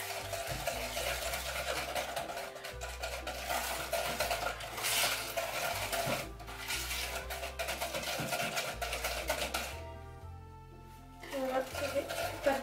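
Frangipane filling mixed in a bowl for a galette des rois, with scraping and clinking utensil strokes against the bowl under background music and a bit of talk.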